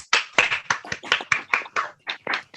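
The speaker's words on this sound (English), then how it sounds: "everyone give each other a round of applause?" Online participants on a video call clap together in a round of applause, a quick run of about a dozen sharp, close hand claps with uneven rhythm and no talking.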